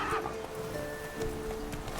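Horse hooves clip-clop at a gallop in the fantasy video game The Witcher 3, with a brief whinny early on, set over a busy game soundscape and heard at moderate loudness.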